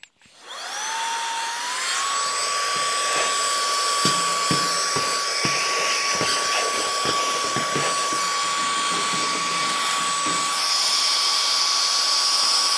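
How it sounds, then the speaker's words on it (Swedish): Cheap handheld vacuum cleaner running steadily with a loud, high-pitched motor whine that starts up and holds constant, with scattered clicks and rattles of debris being sucked up; no talking. "Det kanske inte är det bästa sättet att prova en dammsugare på"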